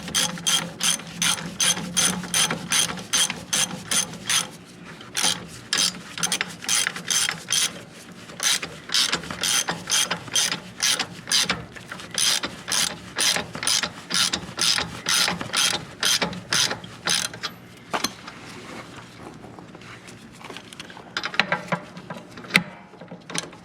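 A ratchet snugs up bolts on the rear axle of a 1997 Dodge 3500, its pawl clicking fast and crisp in repeated bursts separated by short pauses, close and steady throughout.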